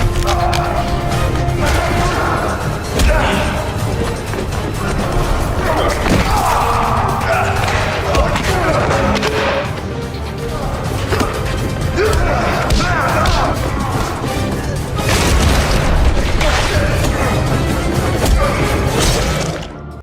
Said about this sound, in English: So, a fistfight ensues, which Tate ends up winning.